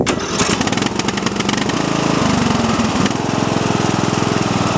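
A Sears LT1000 riding lawn tractor engine cranks and fires up, then settles into a loud, steady running drone with a shift in pitch partway through, close by with no talking.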